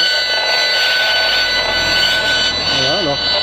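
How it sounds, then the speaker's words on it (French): A detector picks up cell phone relay antenna noise near a former hospital in Metz. It is a steady, loud electronic buzz with tonal whines, and a warbling tone sweeps near the end. "ça c'est le bruit des antennes relais"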